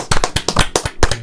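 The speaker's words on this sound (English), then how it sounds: "let's just all clap and say congratulations." A small group of people claps together in a quick, uneven patter of about eight or nine crisp, close hand claps over roughly a second, with no voices.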